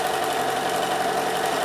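A sewing machine stitches quilt pieces together with a scant quarter-inch seam, giving a steady, loud, close mechanical hum and whir that runs without a break and without talk.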